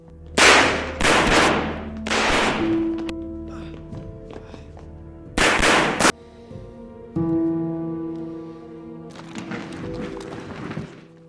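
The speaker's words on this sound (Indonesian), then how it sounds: "mengakibatkan baku tembak singkat" Short bursts of gunfire in a brief shootout, several loud sharp volleys crackling close together with gaps between them, mixed with a sustained tone and other background effects.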